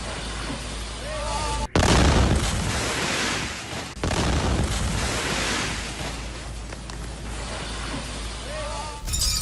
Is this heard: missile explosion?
yes